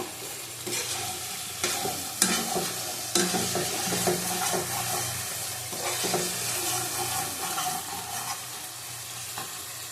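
Tomato masala for a shrimp and young jackfruit curry sizzles steadily in a pan, with repeated scrapes and knocks of a stirring spoon, close and continuous, with no talking.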